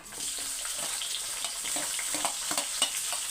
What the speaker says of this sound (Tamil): இப்போ ஆனியன் வந்து நல்லா ஃப்ரை ஆகி வரணும்